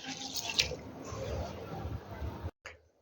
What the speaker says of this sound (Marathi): आता हे उडीद डाळीमध्ये थोडंसं पाणी घालून ह्याला धुवून मी छान असं भिजू घालणार आहे